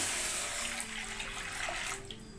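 Water pours steadily into a kadai pan on the stove, a continuous splashing gush that is loud at first and eases slightly toward the end, with no talking.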